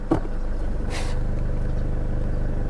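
A car drives on a road in Mae Chaem during the bamboo raft racing festival, a steady low engine rumble filling the cabin with a brief thump and a short whoosh near the start.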